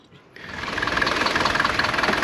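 A Mercedes W201 190 D diesel engine cranks briefly and then catches, settling into a loud, close, steady diesel clatter with a rhythmic knock.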